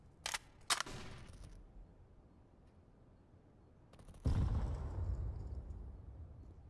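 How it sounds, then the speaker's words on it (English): A flashbang grenade in CS:GO: a couple of sharp metallic clicks, a pause, then a muffled loud burst that rings out and fades slowly. "flashbang."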